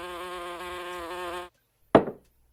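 A cartoon housefly buzzes steadily and loudly, a bright droning whine lasting over a second, then stops abruptly, followed by a single sharp smack.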